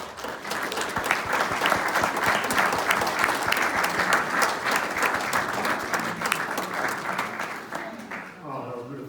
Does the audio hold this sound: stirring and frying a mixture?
no